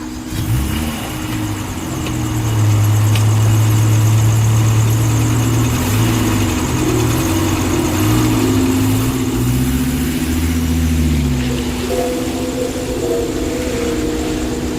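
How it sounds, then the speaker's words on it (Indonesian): A car engine running close by as the car pulls away on a freshly fitted spare tyre, a steady mid-pitched hum whose pitch rises and dips with gentle acceleration and gear changes, no talk. "Aku menyalakan mobil dan mulai melaju."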